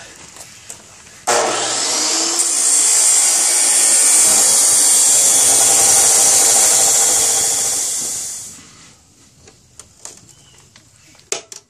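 A power tool, likely an angle grinder or cutoff saw, cuts steel stock for a riding-mower plow, a loud continuous grinding whine lasting about seven seconds before winding down, with faint workshop clatter around it.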